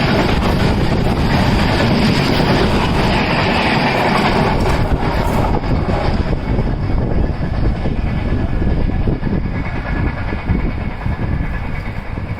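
Indian Railways train with a WAP electric locomotive drawing near, a loud steady rumble with broad wheel and rail noise that holds throughout without letting up.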